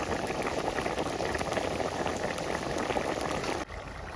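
Chicken meat cooking in a little water over high heat in a pot, a steady dense sizzle and bubbling that runs unbroken and fairly close before dropping off abruptly near the end.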